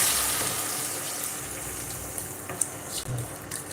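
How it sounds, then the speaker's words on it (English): Water poured into a pot of rice on a stove for Ghanaian anointed rice, a steady gushing, splashing pour heard close and fairly loud throughout, with no talking. "Now it's time to add my water. So I add my water to"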